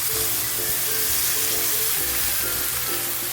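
A fish and vegetable curry simmers loudly in a pan with a dense, constant sizzling hiss that stays even throughout, close by and with no voices.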